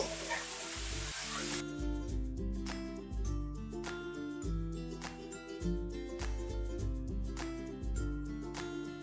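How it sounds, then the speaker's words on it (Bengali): Broad beans and potatoes with turmeric and salt sizzle and fry on a high flame in a pan. A steady hiss runs under repeated clattering strokes of a spatula stirring them. "এবার হাই ফ্লেমে সবকিছু 1 মিনিট ভেজে নেব।"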